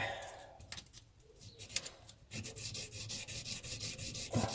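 Guitar body finish being hand-rubbed with polishing compound, close rhythmic back-and-forth rubbing strokes, quiet at first and then steady repeated swishes.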